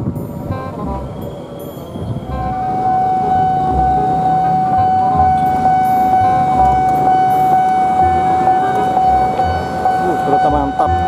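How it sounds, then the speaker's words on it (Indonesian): Steady rumble of the passing Argo Parahyangan passenger train from Bandung to Gambir, with a sustained high whistle-like tone riding over it, loud and close, with rattling clatter throughout. "Kereta api Argo Parahyangan membawa rangkaian kereta dari Bandung menuju ke stasiun"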